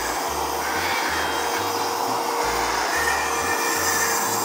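A blender purees hummus with a constant loud motor roar, and a lower churning note rises and falls in an uneven rhythm as the thick mixture catches and turns.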